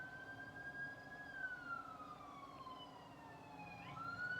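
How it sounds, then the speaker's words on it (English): Police car siren wailing in the distance, a faint rising and falling tone that drifts slowly in pitch as it passes, over low outdoor background noise with no talk. "Is that a police car?"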